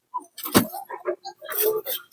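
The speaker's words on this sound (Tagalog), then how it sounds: "Kunin ko muna yung susi." Keys to an e-bike jangle and clink in a few quick bursts close by, with a person talking over part of the rattling.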